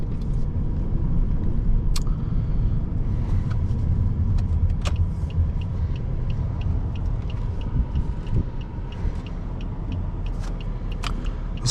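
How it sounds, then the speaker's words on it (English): A 2006 Pontiac Grand Prix sedan's engine gives a deep, steady roar under acceleration, heard from inside the cabin, with a constant low rumble and a few faint clicks and ticks on top. "there's some kind of unique roar when you start off"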